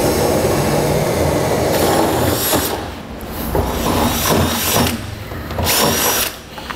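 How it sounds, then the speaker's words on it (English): A half-inch drill bit bores down through the metal bed of a 2016 GMC Sierra pickup during an underbed gooseneck hitch install, a loud close grinding whir that surges, dips and surges again in bursts before stopping. "we're gonna drill down through with our half inch drill bit"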